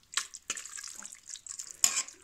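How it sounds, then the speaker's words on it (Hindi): Water splashes and sizzles into a pan of Kashmiri greens (kadam ka saag) cooking in oil, with a few short bursts and a louder final pour, close up and without voices. "फिर पानी डालना है।"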